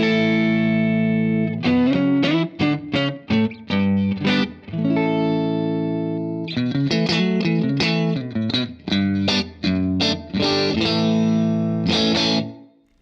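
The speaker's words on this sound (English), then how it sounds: "Let me show you what the Iridium by itself sounds like" Bass guitar played through a Strymon Iridium amp-modeling pedal, giving a slightly gritty, near-breakup tone. Short picked phrases of clipped notes come loud and close, with brief gaps and a sustained final note, and nobody talks.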